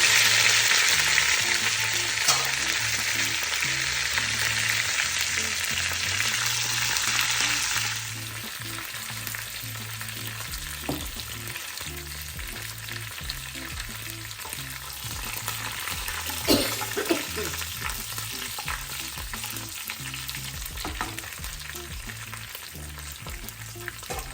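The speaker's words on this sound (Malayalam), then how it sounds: "ഉള്ളി വറുത്ത്" Onions frying in oil in a pan for a rice upma with chickpeas, a steady loud sizzle that eases slightly after the first few seconds, with occasional scrapes of stirring and no talk.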